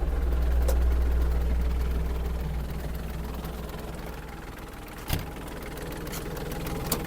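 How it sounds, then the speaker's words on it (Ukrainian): The engine of a Japanese Iseki TG-31 mini tractor idles steadily and close, a constant low rumble with a brief knock partway through. "зупинились, зафіксувались на тормозі і йдемо дивитися, що робиться в нас під капотом"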